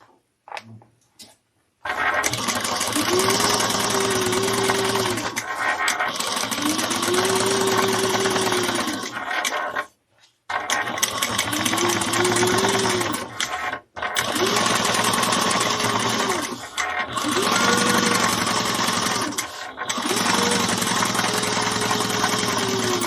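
A sewing machine bastes stitches on a handbag, running in loud, steady whirring bursts of a few seconds each. Short pauses separate the bursts, and the machine sounds close, with no talk over it.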